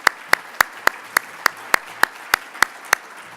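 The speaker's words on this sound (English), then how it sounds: "Let's give another round of applause for the participants of that video." Applause at a California juvenile justice conference, heard as sharp, evenly spaced claps, about three per second, crisp and fairly close against a quiet room.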